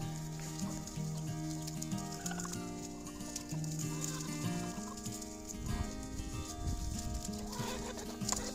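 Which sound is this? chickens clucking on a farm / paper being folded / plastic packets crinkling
chickens clucking on a farm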